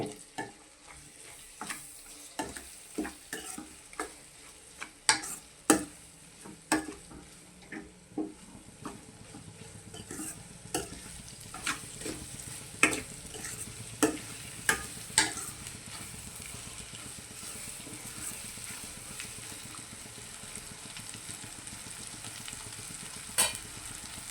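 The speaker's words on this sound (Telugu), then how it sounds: "ఈ మసాలా బాగా కలుపుకుందాము" Egg masala frying in a pan while a spoon stirs it, repeated scraping taps over a faint low sizzle, quiet and close, with no talk.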